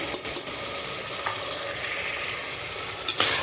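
Garlic paste frying in a hot pan, a bright continuous sizzle with a few brief stirring knocks, close and steady with no voices.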